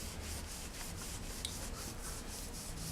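A rusty motorcycle exhaust pipe is rubbed and polished with a cloth in a shoe-shine motion, producing a steady, rhythmic, close-up swishing rub throughout.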